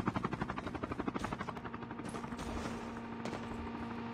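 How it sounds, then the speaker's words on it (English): Helicopter flying overhead in a video game shooter, its rapid rotor chop pulsing rhythmically at first and then blurring into a steady, droning roar, with bursts of gunfire mixed in. "There's a chopper here in the sky."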